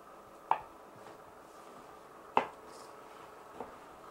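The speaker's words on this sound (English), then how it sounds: "It's cutting them into some strips here" A knife cuts fried jalapenos into strips on a board, giving three faint, sparse taps spaced a second or two apart against a quiet kitchen background.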